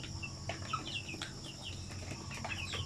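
Sampi native chickens on a small farm: soft clucks and short chirps come in scattered bursts over a quiet background of low hum, the birds fairly close but not loud.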